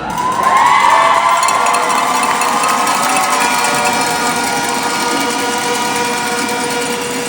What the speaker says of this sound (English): And wow, are you folks loud?